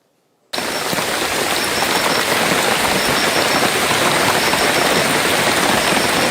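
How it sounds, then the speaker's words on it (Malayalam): After a brief silence, heavy rain in Kozhikode starts abruptly and keeps up a dense, loud hiss on nearby surfaces, with a low rumble underneath and no voices. "കോഴിക്കോട് ജില്ലയിൽ മഴ ശക്തമായി തുടരുകയാണ്"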